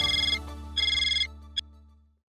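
A telephone ring tone on an outgoing call, two bursts of warbling electronic ringing followed by a short click, then the line goes quiet, with no voices.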